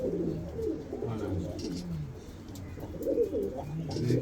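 Andijan pigeons coo in low, throaty bursts, with a steady stream of overlapping calls from a close flock and a few faint chirps above.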